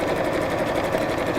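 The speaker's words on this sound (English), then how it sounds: "let's just top stitch around here, make the stitch length a little bit longer" Steady, rapid whirring and ticking of a sewing machine running a topstitch with a longer stitch length, close and continuous with no pauses.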